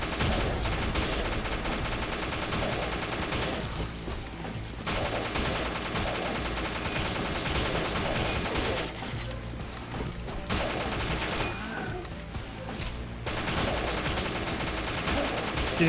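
Rapid automatic gunfire from a bullpup rifle in the Killing Floor shooter game, dense sustained bursts with brief gaps, loud and continuous throughout amid other battle noise.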